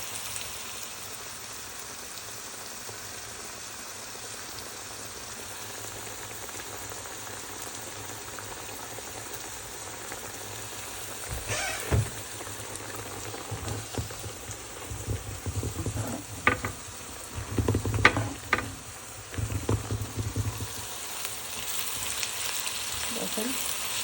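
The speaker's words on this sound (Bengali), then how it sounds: "জাস্ট মরিচ আর পেঁয়াজ একটু তেলের মধ্যে দিবেন," Chili and onion fry in oil with a steady background hiss, and bursts of louder crackling and stirring begin partway through and keep going to the end.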